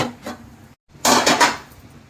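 A metal spoon scrapes and clanks against a pan while goat head meat is turned through masala, a few loud, close strokes separated by a brief silent gap.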